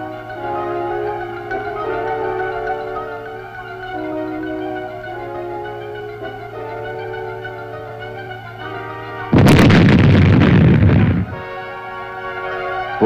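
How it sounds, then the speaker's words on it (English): Plastic explosive charges detonate Chinese communist mines in a Vietnam War setting, a single loud blast with a roaring rumble lasting about two seconds, heard over a steady background hum and music. "these mines were destroyed by demolition experts using charges of plastic explosives"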